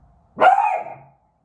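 A single dog bark rings out clearly and alone, a short, loud burst with a brief tail, set against an otherwise quiet room.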